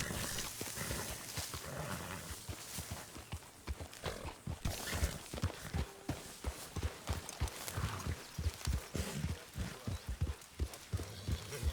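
Horse hooves clip-clop in a steady rhythmic gallop in the Red Dead Redemption 2 video game, with regular thudding beats under ambient noise and no clear neigh.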